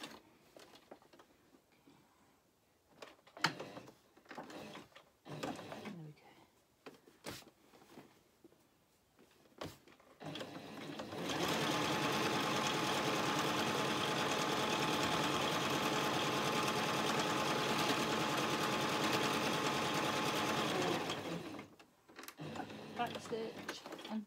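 A domestic sewing machine runs a continuous stitching burst of about ten seconds along a dress seam, preceded and followed by scattered clicks, handling noises and quiet talk.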